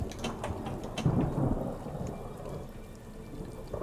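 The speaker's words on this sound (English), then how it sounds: "Storm hitting us." A thunderstorm in the Pinball M table Camp Bloodbrook: a deep rumble of thunder swells over steady pouring rain, with sharp pinball clicks and knocks near the start, then the storm fades to a softer rain hiss.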